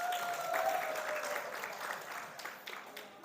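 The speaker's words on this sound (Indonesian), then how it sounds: "Kok ada yang tepuk tangan hebat ini?" Audience at an Islamic lecture breaking into applause, a brief steady patter of many hands that gradually fades.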